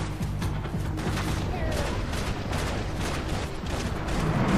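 Dense gunfire volley in the Max Payne 3 video game, a continuous loud barrage of overlapping shots and blasts without let-up, with a voice talking faintly underneath.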